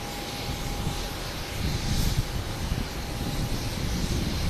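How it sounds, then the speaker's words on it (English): A JetBlue Airbus A320 arriving from Orlando approaches to land at Boston Logan, a distant, moderate jet rumble and whine that swells slightly midway and holds steady. "There's a JetBlue and A320 coming in from Orlando."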